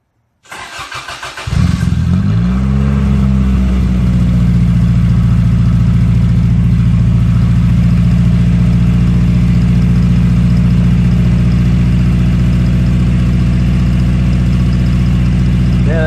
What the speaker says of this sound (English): So I'll set you back here while I start the car.